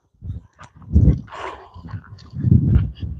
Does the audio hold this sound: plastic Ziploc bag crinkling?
no